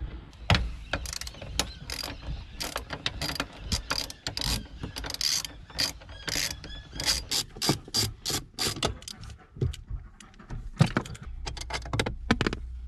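A ratchet wrench clicks in rapid bursts while undoing bolts on the clutch pedal assembly of a right-hand-drive bugeye Subaru WRX, with close metallic rattles and clunks of tools between the runs.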